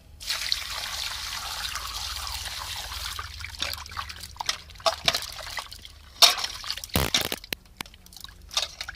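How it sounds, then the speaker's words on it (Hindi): Water trickling and pouring as a grass carp is rinsed clean in a village kitchen, soft dribbles and splashes close by, growing more intermittent with a few sharper clatters toward the end. "तो चलिए इसको पानी से हम धो लिए हैं"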